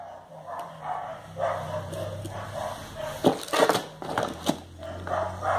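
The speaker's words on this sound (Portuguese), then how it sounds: "olha o barulho dos cachorros" Several dogs bark and yip repeatedly in irregular bursts nearby, some barks sharp and loud and others softer whimpers, over an indoor room tone.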